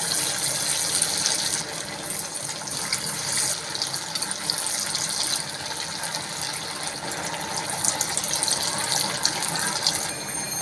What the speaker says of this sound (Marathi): हे बघा तेलामध्ये सोडून देत आहे मी